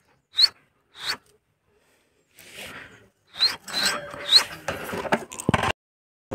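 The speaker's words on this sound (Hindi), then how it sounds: "अभी ओरियो उठ गया है ना, उसका साउंड निकल रहा है।" A pet bird waking in its cage at home gives sharp high squeaks and calls, first isolated, then mixed with rustling and rattling movement nearby, with shouting from boys outside the building in the background.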